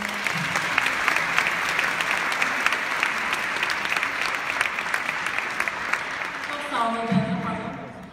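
An audience gives sustained applause at a ceremony on Azerbaijan–Türkiye friendship, steady dense clapping for several seconds, with a voice rising near the end as it fades.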